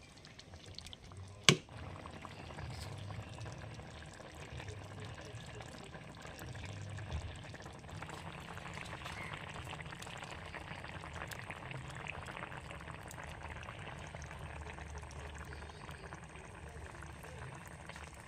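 Kuzhambu curry simmers in a pot with a low, steady bubbling. One sharp click comes near the start, then the burble continues quietly and evenly throughout.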